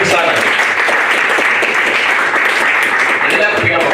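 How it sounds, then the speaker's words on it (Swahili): Loud, dense applause from a youth summit audience as a speaker is called up to give closing thanks, sustained evenly from start to finish. "Put your hands together for Mike Tyson"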